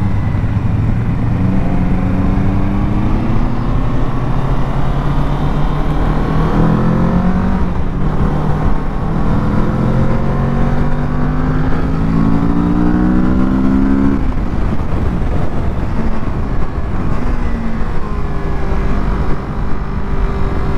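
A 2022 Kawasaki Z650 twin-cylinder motorcycle engine revs up and down repeatedly, rising and falling in pitch, loud and close, with a steady riding rumble and no talking.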